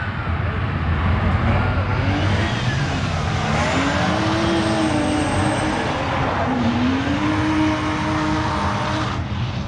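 Drift car engine at a drift contest at Evergreen Speedway, loud and continuous, the revs sweeping up and down with throttle blips and a hard rising wail as the car slides, under steady track noise.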